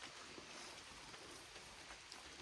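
Steady rain patters down at night around a camping truck, a dense, even hiss with scattered drop ticks and no voices.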